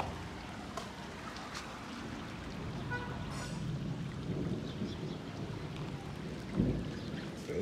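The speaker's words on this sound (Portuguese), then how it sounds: "Muita água mesmo, deu uma chuva forte" Steady heavy tropical rain in Graça Aranha, Maranhão, Brazil, hissing across a broad wash of noise, with a low rumble near the end and no voices.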